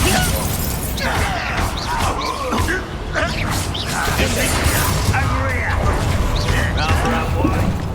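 Spell combat in the Hogwarts Legacy video game, with the Bombarda blasting spell set off amid a dense, continuous wash of crashes, creaks and bursts under loud shouted dialogue.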